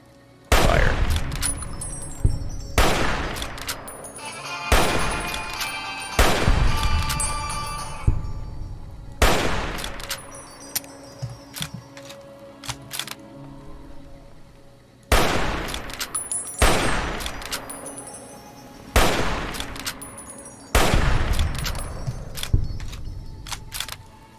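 Gunshots ring out in the video game Fallout: New Vegas, about a dozen loud, sharp reports spaced a second or two apart, each with a short echoing tail and quiet gaps between them.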